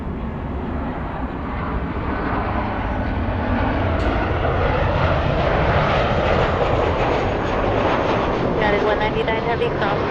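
A Lufthansa airliner's jet engines at LAX airport give off a steady, loud, broadband roar that holds throughout with a rising whine, and faint voices can be heard beneath it.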